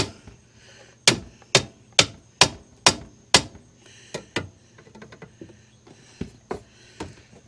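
Sharp taps knock a part into place during an RV repair: six evenly spaced, fairly loud strikes, then a looser run of softer taps and clicks.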